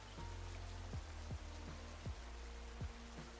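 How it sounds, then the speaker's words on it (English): Rain falls in the video game Pokemon Legends Z-A as a steady, even patter. Recurring low swooping tones sound every half second or so beneath it, and no one speaks. "It's raining."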